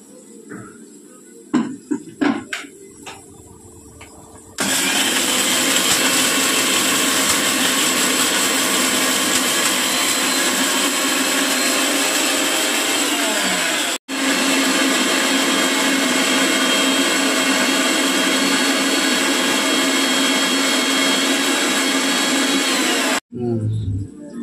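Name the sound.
mixer grinder grinding masala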